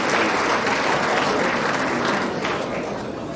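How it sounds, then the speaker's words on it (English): An awards-ceremony audience in a hall claps steadily, a dense, sustained wash of applause that tapers slightly toward the end. "please let's clap for her."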